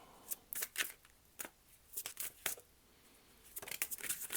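Tarot cards are shuffled and riffled in short, soft bursts of papery flicks and snaps, fairly quiet and close, with brief pauses between them and a longer run at the end.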